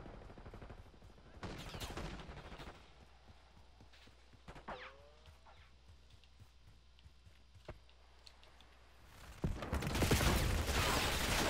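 AK rifle fire in the video game Black Ops 6 during a Hardpoint match, heard as scattered sharp shots and short bursts at moderate level, with a louder stretch of firing near the end.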